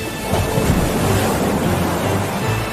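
A storm sound effect roars continuously with crashing ocean waves and strong wind, a dense, loud rumbling wash with no voices.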